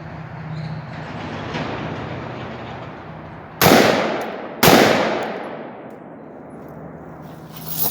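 Two loud, sharp rifle shots fired at targets 300 to 500 yards away, spaced about a second apart, each cracking out and decaying over a steady outdoor background hum.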